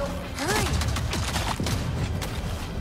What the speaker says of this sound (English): Oh, this shotgun.